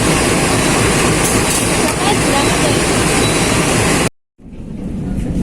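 KA Majapahit economy passenger train in Indonesia rolling along, a loud steady rumble and rattle of cars on track that cuts out briefly near the end before the noise builds again.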